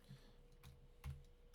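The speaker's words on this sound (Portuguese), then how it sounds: "Vou digitar mais rápido, copiando aqui." A computer keyboard typed on during a programming lesson: a few faint, scattered keystrokes against a quiet room hum.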